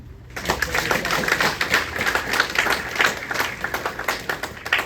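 A church congregation claps in a dense, steady patter of many hands. It sounds moderately close and carries on without a break, with no talking over it.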